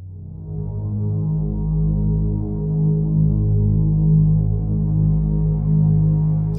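A deep, sustained ambient piano atmosphere pad drone slowly swells and pulses gently, dark and warm, with no voices.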